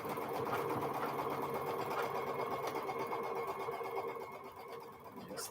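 A sewing machine with a 1/4 inch foot stitches quilt pieces across crossing seam lines, a steady, quiet mechanical whir and rapid needle chatter running throughout before easing slightly near the end.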